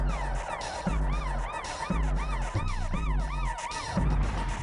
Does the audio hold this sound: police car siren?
yes